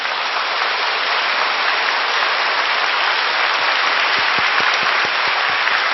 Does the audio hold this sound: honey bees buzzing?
no